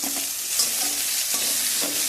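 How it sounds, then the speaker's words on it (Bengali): Onion, ginger, garlic and chilli frying in white oil in a kadai, a close, steady hissing sizzle with faint stirring scrapes throughout. "পেঁয়াজটা ভেজে নেব।"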